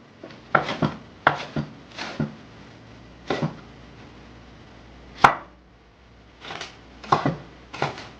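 An ingredient being beaten in the kitchen while preparing Jamaican oxtail: several sharp, separate knocks in an irregular rhythm, close and fairly loud, with short pauses between strikes and no talking.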